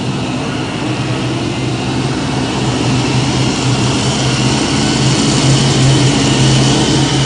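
A pulling tractor engine at an NTPA Grand National tractor pull in Sandwich, Illinois, roars loudly and continuously in third gear, a dense, heavy rumble that builds slightly in intensity throughout.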